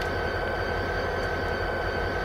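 An Amtrak Pacific Surfliner F40PH locomotive rolls slowly backwards at Anaheim in a train simulator game, producing a steady low engine rumble and hum with continuous rail noise, moderately loud and without talk.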